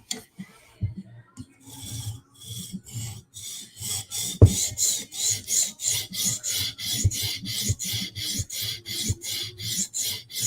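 Steady back-and-forth rasping strokes of a Spyderco knife bevel being sharpened on an abrasive stone or file, close and rhythmic, about two strokes per second after a few slower scrapes at the start, with no talking.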